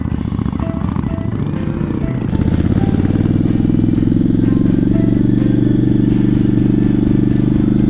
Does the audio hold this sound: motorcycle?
yes